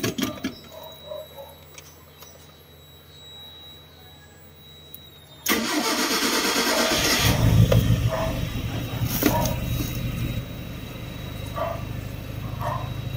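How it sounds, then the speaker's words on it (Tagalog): A car engine cranks and fires up partway through after near silence, then settles into a steady, loud, close idle, started to test a newly installed manual thermostat for the air conditioning. "Start muna natin yung engine."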